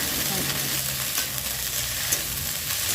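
Cut okra frying lightly in a pan with green chillies, a steady close sizzle with soft stirring scrapes running throughout, no voices.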